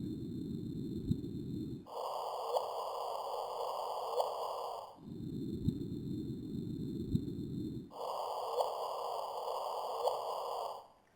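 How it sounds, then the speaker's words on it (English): The first observed gravitational wave signal, converted to audio, plays as a steady hissing buzz of instrument noise that alternates between a low band and a higher band, with faint brief plops at intervals. "This is the sound of the first gravitational signal that we observed."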